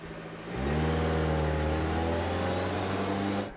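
A Jeep Compass engine strains steadily through a timed lap in reverse, a loud, sustained drone that kicks in abruptly and climbs slightly in pitch.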